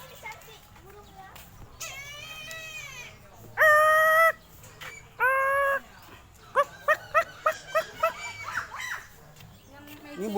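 Loud, drawn-out harmonic cries from a black eagle at a zoo, two long calls followed by a quick run of short repeated yelps, with children and other voices chattering faintly in the background.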